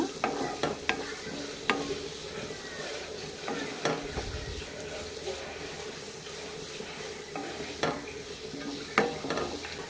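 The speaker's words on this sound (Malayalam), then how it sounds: "അടുത്തായിട്ട് നമ്മൾക്ക് മാങ്ങ ഇട്ട് കൊടുക്കാം കേട്ടോ. നമുക്ക് നന്നായിട്ടൊന്ന് മിക്സ് ചെയ്ത് കൊടുക്കുക." A spatula stirring a mango rice mixture in a frying pan, with quiet, intermittent scraping and tapping strokes over a faint sizzle in an otherwise calm kitchen.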